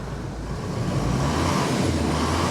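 A Jeep Cherokee engine runs at idle, a steady low rumble that stays close and constant throughout with no talk over it.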